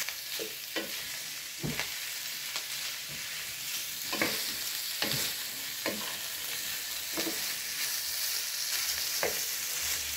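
Corn kernels sauté in a home-cooking pan, a steady soft sizzle underneath with repeated sharp scrapes and clicks of a stirring utensil every second or so, close and fairly quiet, with no talking.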